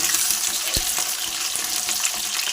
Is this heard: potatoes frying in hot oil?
yes